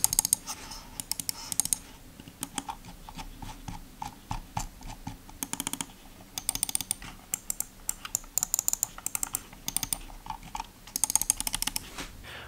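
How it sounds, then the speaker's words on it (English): Sharp plastic clicks from a Corsair M55 RGB Pro gaming mouse come in quick irregular bursts, some rapid-fire, separated by brief pauses, close and crisp against a quiet background. "here's a quick sound test on the M55 gaming mouse"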